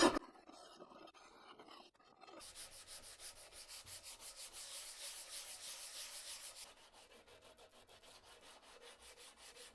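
Old paint scraped off metal by hand with a scraper while restoring a 676 machine, heard as rhythmic close rasping strokes, faint at first, then a loud steady series that softens toward the end.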